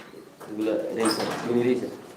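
Fancy pigeons at a loft in Sylhet give soft, low coos, a few rounded calls close by, heard under someone talking.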